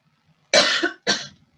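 Two harsh hay-fever coughs close to the listener, the first longer and the second shorter, separated by a brief pause in otherwise quiet surroundings.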